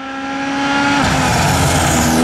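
A purple toy race car gives a sustained, loud engine-like whine that rises steadily in pitch as if accelerating, heard alone without talk for a couple of seconds.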